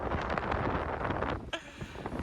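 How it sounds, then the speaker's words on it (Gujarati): Strong gusts of wind blow into a tent pitched on a lake island, roaring and buffeting close to the microphone in a brief, rough burst with a short dip midway. "પવન એટલો બરાબરનો છે કે ટેન્ટ પણ બરાબર લાગતું નહીં."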